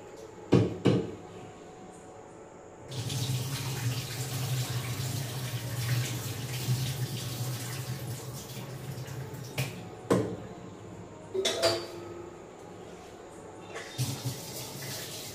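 A tap runs steadily into a sink as rice is washed for dinner, the stream starting after a few clicks and knocks, with handling bumps and a brief pause midway, close and moderately loud, no talking.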